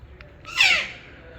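A handled pigeon gives a single harsh, raspy squawk at close range, rising and fading within half a second over low background hum.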